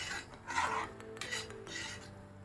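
A spoon stirs a thick masala paste for a black pea usal in a cooking pot, giving soft close scraping and rubbing with light metallic clinks against the pot, heard alone and fairly quiet.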